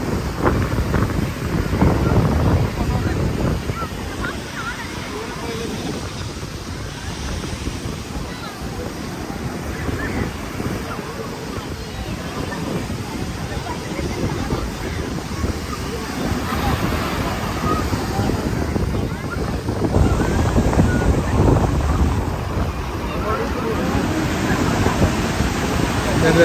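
Sea waves crash and wash in steadily along Kovalam beach near Trivandrum, a loud continuous surf roar mixed with heavy wind buffeting close to the microphone throughout.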